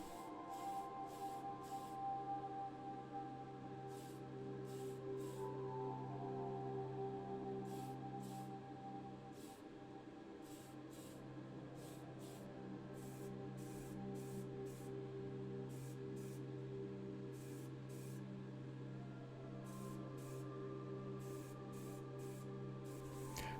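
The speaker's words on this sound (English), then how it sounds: "Next the body is sprayed with Tamiya deep metallic red and the bottom plate gets a coat of Motip high gloss" An aerosol can hisses in short bursts, about a dozen quick sprays, as Tamiya deep metallic red is applied to a Matchbox Rolls-Royce Silver Shadow diecast car body. The sprays sit over a steady hum.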